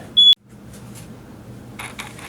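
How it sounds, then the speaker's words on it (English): A smoke alarm in a home kitchen, set off while a chicken roasts in the oven, gives one short, loud, piercing electronic beep, then low room noise and faint rustling follow. "I set the fire alarm!"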